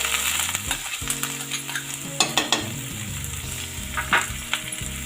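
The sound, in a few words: chopped onion frying in a pan with garlic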